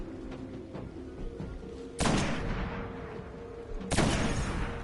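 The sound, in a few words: golden gun gunfire from a video game (Call of Duty)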